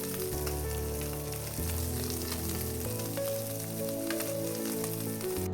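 Fish frying in hot oil, a steady bright sizzle running continuously for several seconds under a faint sustained musical tone in the background.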